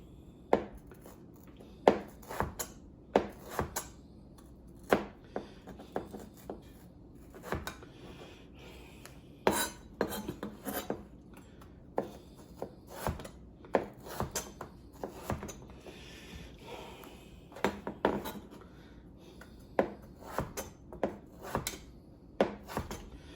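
A knife cuts potatoes into bâtonnet on a board, producing a long run of sharp, close chopping strokes at an uneven, busy rhythm with short pauses between bursts.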